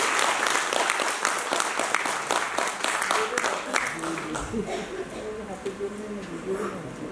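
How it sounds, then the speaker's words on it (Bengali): Audience at an annual children's stage program applauding the young performers, dense steady clapping that fades as a voice begins speaking over it. "আর একবার ওদের জন্য জোরে হাততালি দিয়ে"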